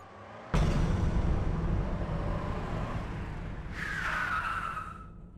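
A car brakes hard and its tyres skid to a stop on a road, a loud broadband rush followed by a rising tyre squeal near the end, with no talk.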